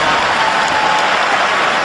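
A big stadium crowd at a college football game roars in a dense, steady wash of cheering and applause after a running play, loud and unbroken throughout.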